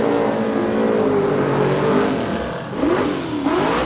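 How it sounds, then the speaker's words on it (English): A pickup truck and a Chevrolet S10 launching side by side in a heads-up drag race, engines roaring and revving hard at full throttle, loud and close, with a second surge of acceleration late on. "The pickup moving first. And the S10 muscling away for the win light there."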